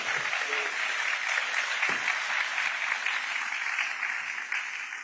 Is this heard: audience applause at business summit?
yes